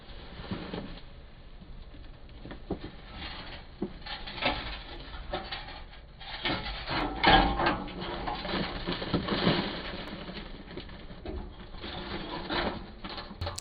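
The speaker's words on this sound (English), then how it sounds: "using a Sawzall and some of the grinders, cutting the corners, that was the magic trick to get this out" A Sawzall reciprocating saw cuts through the metal frame of a crawlspace door, giving a steady, close rasping mechanical buzz that swells and fades with the strokes, with no talking.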